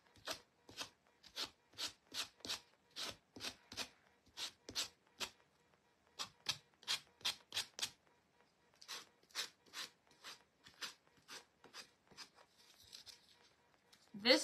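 A sander works on sandpaper in a series of short, rhythmic rasping strokes, close and steady with brief pauses between bursts.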